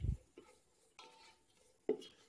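Celery and spices stirred in hot ghee in a pan: a few scattered, quiet clinks and scrapes of a utensil against the pan over a faint background, with no talking.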